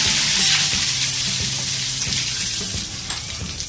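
Curry leaves dropped into hot oil during tempering with sesame seeds and asafoetida for Gujarati muthiya, giving a loud, steady crackling sizzle that runs the whole time with small pops.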